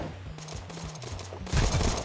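Rapid gunfire from the mobile battle royale game Knives Out (荒野行動), repeated shots that grow louder and denser near the end, over a steady game background.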